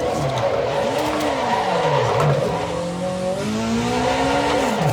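Race car tires squealing and skidding while drifting in the racing game Assetto Corsa EVO, wavering screeches rising and falling over a continuous engine drone.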